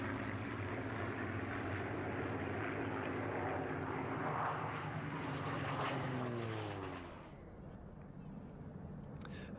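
A formation of propeller aircraft flies past at the Duxford airshow: a loud, rising-then-falling multi-engine roar with clear pitch drop as they pass, fading after about seven seconds.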